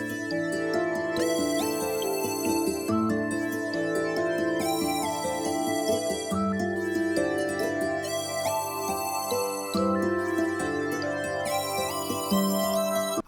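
An Asian rock beat built in FL Studio plays continuously at steady loudness, with looping bell patterns, sustained strings and bass notes repeating in bars.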